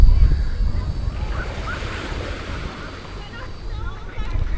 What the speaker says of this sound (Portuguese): Tá ventando forte.